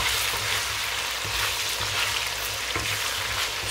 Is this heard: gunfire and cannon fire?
no